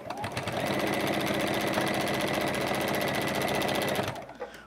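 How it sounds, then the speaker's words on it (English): Sewing machine running a zigzag top stitch on scrap fabric for a mini basket, a steady, fast mechanical whirring rattle held for about four seconds before stopping, close and clear with no talking. "this would be a great way to top stitch with even just a zigzag stitch"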